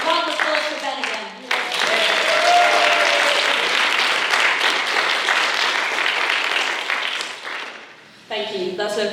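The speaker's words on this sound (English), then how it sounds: "Round of applause for Ben again." An audience at a Bright Club Manchester comedy night claps for a performer named Ben, dense sustained applause swelling after a brief voice and fading near the end before talk resumes.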